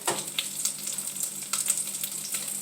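Fideo noodles browning in a pan over medium heat on a gas stove give a steady, close sizzle with scattered crisp crackles and pops, with no voices.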